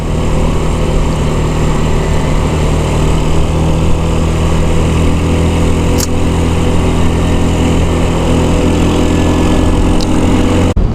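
A motorcycle engine runs steadily and loudly at close range on a ride through a pine forest road toward Curug Sewu in Kendal, with a steady drone that holds throughout and then cuts out abruptly right at the end.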